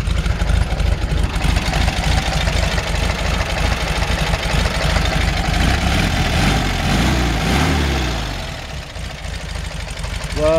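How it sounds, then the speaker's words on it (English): A 1967 Volkswagen Beetle's small air-cooled engine idling steadily with a low, throbbing putter, close by, dipping briefly before revving back up at the end. "It's a nice, healthy Volkswagen engine."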